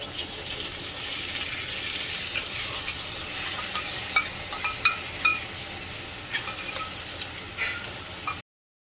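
Tomato paste with a little gram flour, stirred in a pan for paneer bhurji: a soft steady sizzle under repeated scraping and tapping of the spoon, close by, ending abruptly.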